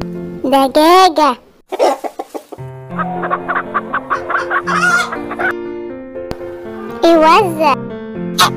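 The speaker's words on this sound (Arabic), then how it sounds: "دجاجة" Farmyard chicken clucking in short repeated bursts, close and loud, with rising cackle-like calls and a mix of other fowl noises around it.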